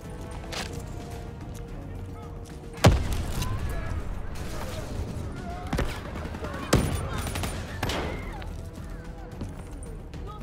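Gunfire in the video game Black Ops 3 crackles in bursts, with two sharp, loud shots standing out against a busy stream of rapid fire and battle noise, while a person talks over it.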